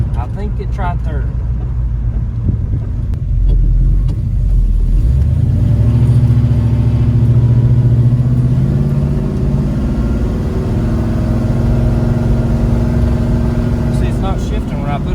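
Big block El Camino engine rumbling and revving under load as its low-fluid automatic transmission shifts through gears, a steady loud close drone with rising pitch sweeps and occasional voices underneath.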